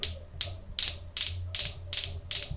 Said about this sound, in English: it's that pendulum toy with the stainless steel balls all hanging from strings